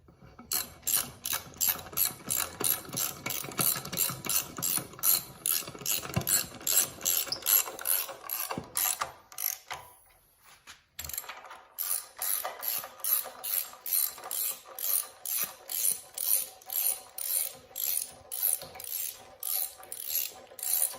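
A ratchet wrench with a 12-point socket clicks steadily while tightening bolts on a 1969 Cub Cadet 105 engine being reassembled, with rapid repeated pawl clicks in bursts, a brief pause midway, then regular rhythmic strokes, close and clear.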